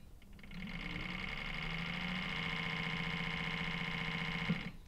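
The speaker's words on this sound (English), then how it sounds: "So here I'll show you running at a lower speed." An E-Pulse electric hydraulic pump runs steadily at a lower motor speed, a close, even mechanical whir with a droning hum that holds for several seconds before stopping.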